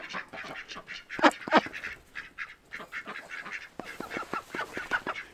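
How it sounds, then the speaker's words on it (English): A duck quacks repeatedly in quick, uneven bursts, close and fairly loud, with a few louder honking calls mixed in. "Take note of the quack,"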